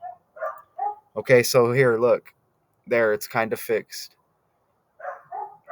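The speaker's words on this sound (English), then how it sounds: "Excuse me if you can hear some dogs barking over there." Dogs bark at a distance outdoors in Arizona, short yips and barks that come in brief bursts around someone speaking close by.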